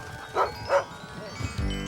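A dog gives two short, fairly quiet yipping barks in quick succession, followed by a faint whimper and a low tonal hum.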